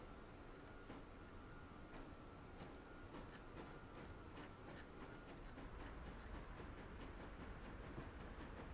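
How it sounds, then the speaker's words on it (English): A train departs in the Transport Fever 2 rail-building game, a steady rolling rumble with a hiss and a faint, regular clickety-clack of wheels on track joints that carries on throughout without speech. "the train is out of here with 22 passengers in tow"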